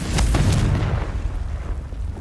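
A Confringo blast spell in the video game Hogwarts Legacy erupts as a loud, heavy explosive boom with a crackling burst up front, then rumbles and fades over about two seconds.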